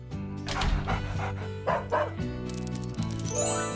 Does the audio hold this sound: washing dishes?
no